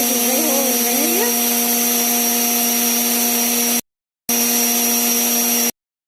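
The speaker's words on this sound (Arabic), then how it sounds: "وهضربهم في الخلاط" An electric mixer whips eggs and vanilla with a loud, steady high motor whine, cut off briefly once and then cut off again, close up and with no talking.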